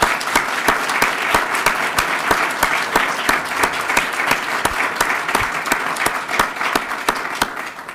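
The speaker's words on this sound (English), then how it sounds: "Let's clap for them one more time." An audience at a university awards ceremony for distinguished teaching and research breaks into loud, sustained applause, many hands clapping steadily and densely with no voices over it.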